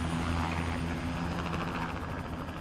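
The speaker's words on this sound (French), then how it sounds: "Hélicoptère du milliardaire" A helicopter in GTA Online flying away, a steady loud rotor drone with a low engine hum that fades slightly toward the end.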